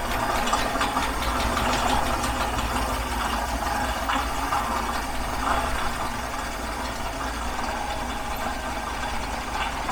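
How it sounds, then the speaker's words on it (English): A Ford F-100 truck engine idles steadily up close, with a continuous metallic rattle from the water pump running through the low rumble. "That rattling's that water pump."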